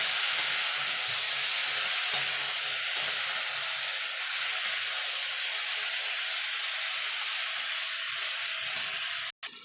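Onion stalks fry with potato and cauliflower in a pan over low to medium heat, giving a steady, close sizzle and hiss that holds evenly throughout with only faint clinks now and then.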